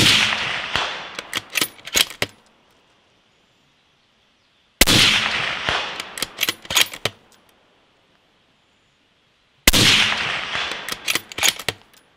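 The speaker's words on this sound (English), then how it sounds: "what I'm going to go ahead and do now is shoot at a steel gong at 240 yards" Three suppressed rifle shots from a 7.62 rifle fitted with a Rugged Razr silencer, evenly spaced about five seconds apart, each a sharp crack followed by quick metallic ringing taps from a steel gong downrange at 240 yards.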